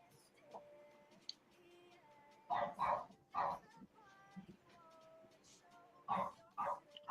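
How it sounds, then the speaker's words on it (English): A small dog barks and whimpers in several short bursts at a distance, with quiet background noise between the yelps. "Is that your little doggy?"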